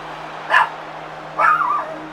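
A dog gives two short yelping barks, fairly close and moderately loud, separated by about a second, over a steady low electrical hum, no speech.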